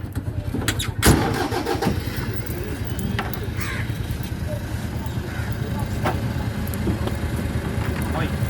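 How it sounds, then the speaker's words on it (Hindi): A car engine cranks and catches, then idles steadily outdoors, with crows cawing nearby and people talking over the running motor. "चलो स्टार्ट कर गाड़ी।"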